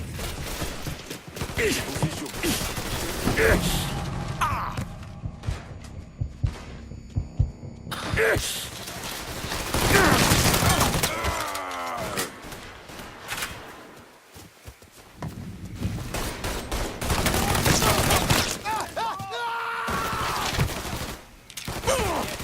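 Gunfire bursts in the Mafia III game, dense and cluttered, mixed with game music, effects and background noise, swelling loud in stretches with a short quieter gap midway.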